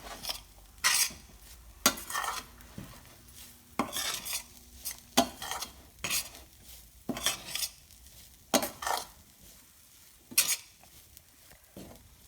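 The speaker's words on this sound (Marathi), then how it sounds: "मसाला चांगला सुगंध येईपर्यंत परतून घ्यावा।" Spice masala for stuffed bitter gourd is stirred in a pan, with sharp scraping clinks of a spoon against metal at irregular intervals over a faint, low sizzle.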